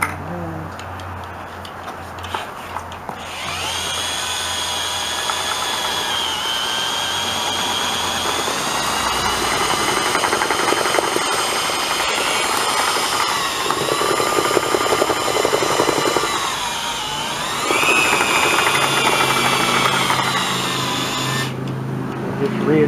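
A power drill whines steadily for a long stretch, its pitch rising and dipping as it churns thick tile mortar in a bucket, loud and close.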